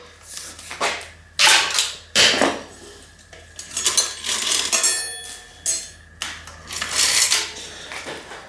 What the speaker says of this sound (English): the chain is rusted junk, so I'm just going to go ahead and cut that off, get it out of the way